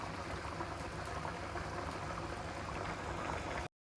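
Garden greens simmer in water in a pot, a continuous close bubbling and hiss that cuts out briefly just before the end.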